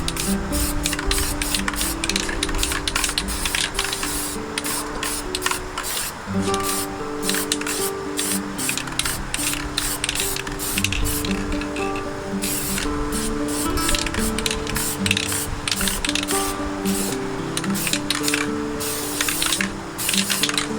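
Repeated hissing bursts of a black spray paint can during spray paint art, short sprays and pauses, close by, over steady background music.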